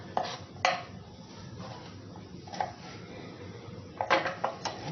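Cucumber and onion being finely chopped for salad, heard as sparse, sharp knife knocks on a board: a pair, a single, then a quick cluster of four, close and clear over faint background hiss.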